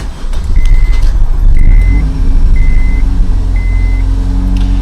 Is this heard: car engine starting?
yes